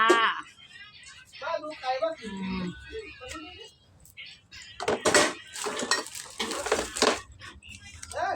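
Papaya salad being pounded in a mortar, with sharp clinking and knocking hits in uneven bursts, loudest toward the end, while someone talks over parts of it.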